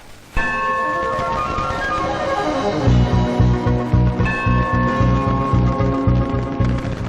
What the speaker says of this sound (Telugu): గంట కొట్టి అడగాలి